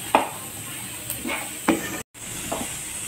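Potatoes sauté with ginger paste, cumin, chili, turmeric and a splash of water in a pan. A soft sizzle runs beneath a few scattered stirring scrapes, and there is a brief silent gap partway through.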